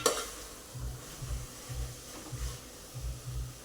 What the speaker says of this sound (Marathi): हे छान असं मिसळून घ्यायचं पालक.